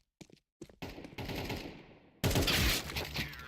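Gunfire in a competitive shooter video game during a league match, a few sharp shots followed by sustained rattling bursts and a loud crack-heavy volley near the end, with no talk.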